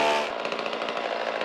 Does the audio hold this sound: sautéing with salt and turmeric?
no